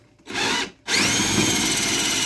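A power drill drives screws into a wooden board, one short whine burst, a brief pause, then a longer sustained high-speed grinding run, loud and close.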